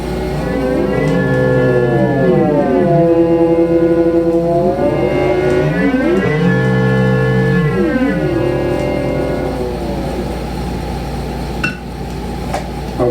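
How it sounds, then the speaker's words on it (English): Sweeping electronic glissandi from the RCA Mark II synthesizer, passed through a ring modulator, with metallic, bell-like overtones that rise and fall in mirrored arcs, loud and continuous, ending with a faint clink. "Now I'll put the glissandi through the ring modulator."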